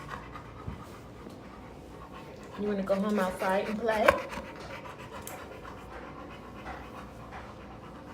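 A dog panting in rapid rhythmic breaths at close range, with a person speaking over it partway through.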